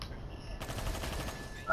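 Dense automatic gunfire from the zombie shooter game World War Z rattles continuously at moderate volume, with a brief burst of extra noise at the end.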